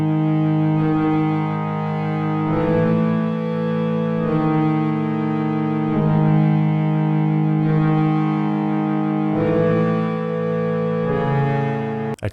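Sustained Roland D-550 vintage synthesizer melody with bright, buzzy harmonic tones, moving through a few slow held notes with slight echo, played alone.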